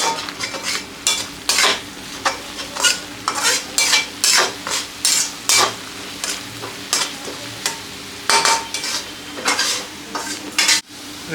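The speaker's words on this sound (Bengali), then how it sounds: "এটা এখন ভালো করে নাড়াতে হবে।" Spice masala for chhola is stirred in a frying pan, a spoon scraping in repeated rhythmic strokes over a soft sizzle, with a sharp clink near the end.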